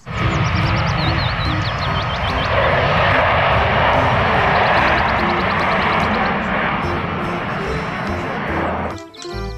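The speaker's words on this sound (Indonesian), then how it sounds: "Ada pesawat jet tempur" A loud, continuous fighter jet engine roar fills the scene, steady and close, with faint chirping birdlike tones above it, before cutting off abruptly near the end.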